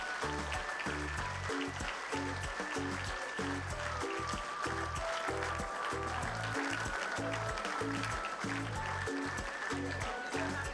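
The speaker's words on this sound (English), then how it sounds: "I think they do deserve a rousing round of support and applause." An audience gives a round of applause at a talk, a continuous, dense wash of clapping held at an even level throughout, with a steady rhythmic beat underneath.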